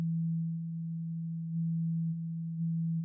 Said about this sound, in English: It's not really doing much because this other sine wave is still being put through.